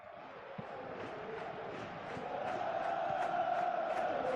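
Stadium crowd in the football game PES 2025, a broad continuous roar that swells louder toward the end, with faint commentary underneath.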